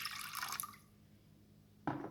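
Milk and water poured for soft German pretzel dough, a close liquid splash and trickle at the start, then a brief second pour near the end after a quiet gap.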